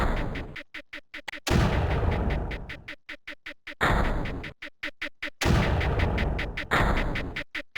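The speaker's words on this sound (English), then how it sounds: "Now we'll get this blaster going." A blaster weapon in Creeper World fires rapid rhythmic pulses, interleaved with heavy booming blasts that recur at intervals, loud and close with no talk.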